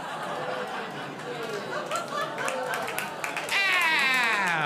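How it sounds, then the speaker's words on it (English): A comedy show audience claps and chatters with scattered laughter, the applause building to a fuller burst as the comedian's voice rises over it. "You are right for clapping."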